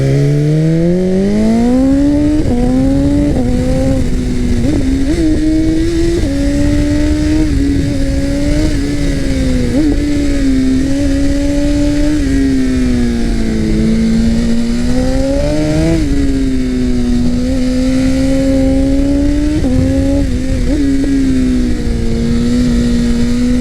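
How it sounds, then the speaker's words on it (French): A BMW S1000RR motorcycle engine revs hard and steadily, rising and falling through gear shifts with crackling exhaust backfire, loud and close throughout with no talking. "Les retours de flamme au passage de rapport, c'est incroyable, vraiment."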